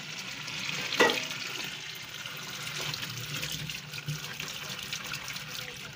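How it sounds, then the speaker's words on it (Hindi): Cold water is poured over hot boiled potatoes in a home kitchen: a steady running trickle and splash throughout, with one sharp clink near the start. "इनके ऊपर जल्दी से ठंडा पानी शामिल करते होते हैं"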